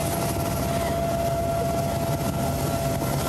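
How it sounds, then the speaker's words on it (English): Sea King rescue helicopter running steadily nearby, a loud constant rotor and engine roar with a faint tonal whine, no talking. "They eventually find the Sea King helicopter and creep up next to the open door, and Sarah looks absolutely terrified."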